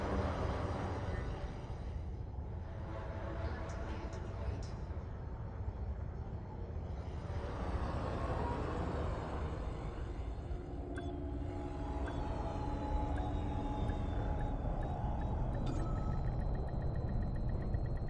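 A video-game spaceship settles onto a landing pad with a steady engine drone and rumble, plus faint rising and falling tonal whines throughout.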